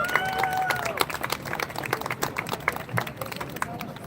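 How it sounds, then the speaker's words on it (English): An audience claps for two bandura players at a live Ukrainian rally, a dense crowd applause with some chatter and murmuring mixed in, steady throughout. "Please give them a round of applause."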